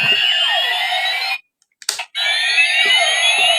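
A secondhand Kamen Rider Fourze DX toy transformation belt plays its countdown effect: shrill electronic alarm-like warbling tones in two loud bursts, separated by a brief pause with a small click.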